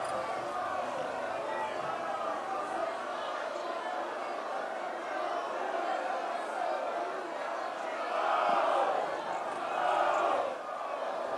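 An excited crowd of people heard as a steady distant roar of many voices, swelling into louder cheering bursts toward the end.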